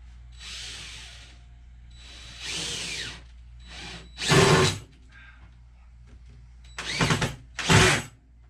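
A power drill whirs in several short bursts while electrical wire is being prepped, some brief and muffled, others louder and closer, separated by pauses with quiet background.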